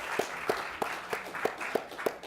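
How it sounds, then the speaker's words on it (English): Audience applause after a panel discussion at an education event, a soft steady patter of many hands with a few distinct louder claps in a quick rhythm, moderately distant. "One last round of applause, please,"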